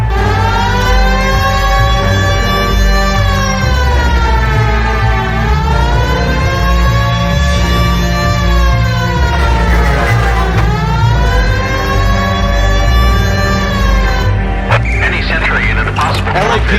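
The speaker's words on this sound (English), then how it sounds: "Hit the siren." A police car siren in the LA Noire video game wails in long rising and falling sweeps, loud and close over a low engine hum, cut off near the end.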